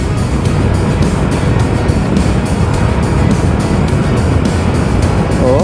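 Yamaha Lexi 155 scooter riding along a scenic road, with steady engine drone and heavy wind rush filling the whole stretch at constant loudness, and no talking.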